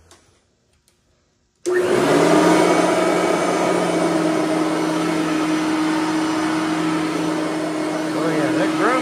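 A Bissell 3510 carpet cleaner starts up after a short quiet pause and runs loud and steady over a rug, with a constant motor whine and suction roar throughout; a brief voice is heard at the start.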